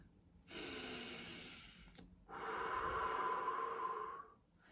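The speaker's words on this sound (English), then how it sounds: "Like literally take a deep breath." A slow, deep breath, one long inhale then a longer exhale, close and clear with no talking.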